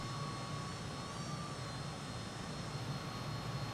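Steady, loud jet engine roar from a MiG-21bis in Microsoft Flight Simulator 2020, a continuous broadband rush with a faint whine on top, holding even for the whole stretch with no voices.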